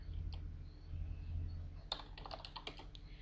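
A short burst of quick keystrokes on a computer keyboard, several close clicking taps over a steady low hum, entering a training command in the Aardwolf text-based MUD game.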